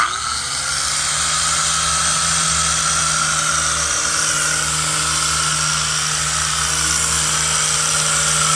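A power tool with a coarse pad polishes the edge of a stone tile into a bullnose, making a loud, steady high-pitched whine with a constant hum beneath. It runs close and continuous with no talk.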